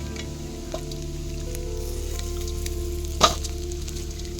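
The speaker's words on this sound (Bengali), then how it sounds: "পুরো ক্রিসপি ফ্রাই, আওয়াজটা দিচ্ছে দেখো ভাই।" Amudi fish frying crisp in hot oil, a continuous close sizzle with faint bubbling and one sharp clink near the end, no voices.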